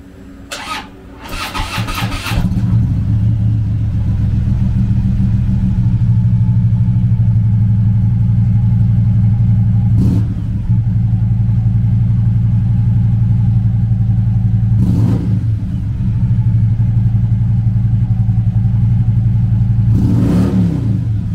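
A 2014 Harley-Davidson Road King police motorcycle with ABS, its V-twin engine idling steadily and loudly up close after a few opening revs, with occasional brief throttle blips along the way and no talking.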